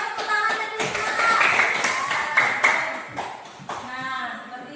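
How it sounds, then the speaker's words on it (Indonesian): A school class claps hands together on a teacher's cue, sharp irregular claps mixed with students' voices and chatter nearby. "Coba tepuk tangannya dulu semua."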